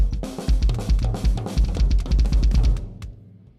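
A drum kit plays a double bass fill, alternating two hand strokes with two kick-drum strokes in a rapid, driving run of heavy, close hits that thins out and stops near the end.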